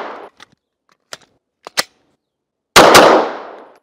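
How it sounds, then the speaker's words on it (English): Pistol and Micro Roni carbine-conversion double-tap shots at an outdoor range, a series of sharp cracks in close pairs, then one loud final shot with a long ringing decay, no talk. "So I'm going to take 3 double taps with a pistol, 3 double taps with a Roni."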